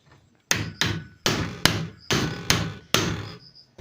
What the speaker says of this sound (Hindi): उसके बाद बोल्ट से यहाँ पे हथौड़ी मार के इसको अंदर करना है।